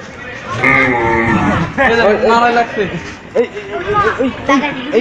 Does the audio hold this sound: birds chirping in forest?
no